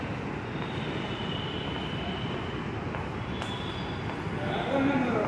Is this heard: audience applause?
no